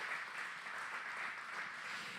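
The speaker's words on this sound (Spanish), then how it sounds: "Yo creo que podemos darle palmas al Señor." A congregation claps during a Spanish-language church service, producing a faint, dense, continuous patter of applause with no voice over it.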